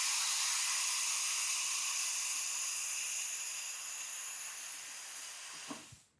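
Steady, loud hiss of compressed air flowing through a SILATU STC550P plasma cutter set to air mode, holding constant before fading and cutting off abruptly near the end.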